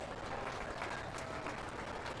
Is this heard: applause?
yes